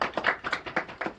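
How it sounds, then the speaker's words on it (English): A small audience at a Blue Sky Economic Growth Corporation funding announcement claps briefly, a short close burst of sparse, distinct hand claps. "Let's give our friends at Blue Sky Net a round of applause for hosting us today."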